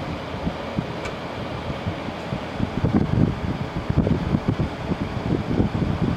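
An LG ThinQ 10000 BTU window air conditioner with its compressor running gives a steady broadband whir and hum, with a low throb that swells slightly midway. It runs continuously and fairly close, with no talk.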